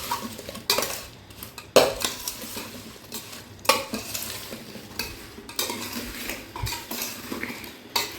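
Raw green mango pieces for pickle being mixed with spice masala in a bowl: steady scraping and stirring with a spoon or ladle, punctuated by several sharp clinks against the bowl, close and alone without talk.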